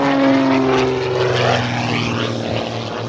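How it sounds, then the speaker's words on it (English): A loud aerobatic propeller airplane performing at a Dover Air Force Base air show, its engine droning with a shifting, wavering pitch as it maneuvers nearby, fading slightly toward the end. "Nothing but horsepower and thrust, keeping that airplane in the sky."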